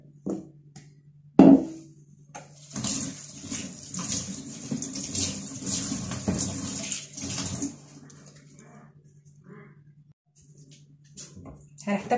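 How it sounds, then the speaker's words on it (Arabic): Tap water runs and splashes while a water filter housing is washed by hand. A sharp clatter comes early, then a steady gushing flow that later thins, with a person talking throughout. "دلوقتي مرحله غسيل الهاوسنج"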